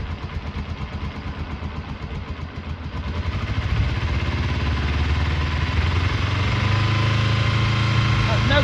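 A Kawasaki Eliminator EL 250 motorcycle engine idles under restoration, a steady close chugging that grows louder and rougher partway through and then holds, with talk over the top.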